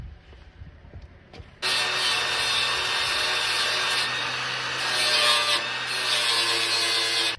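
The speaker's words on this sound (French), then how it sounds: "On va le gratter un peu et voir ce qu'il y a derrière." Loud, continuous, close-up rasping as a tool scrapes torn car body sheet metal near the mirror area. The harsh grinding runs steadily for several seconds after a quiet start.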